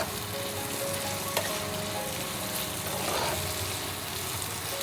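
Onions frying in a pan as the base for Bengali garlic prawns, a close, steady crackling sizzle that runs unbroken from start to finish with no talking.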